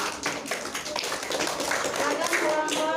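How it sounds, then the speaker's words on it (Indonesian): Classroom applause as students clap for their classmates after a group discussion, a scattered burst of many hands sustained for about three seconds, with voices mixed in underneath. "tepuk tangan untuk teman kalian"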